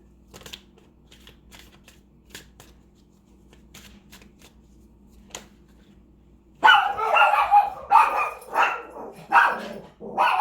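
Puppies yap and bark in a quick, loud cluster of bursts that starts partway through, after a quiet stretch broken only by faint shuffling card noises.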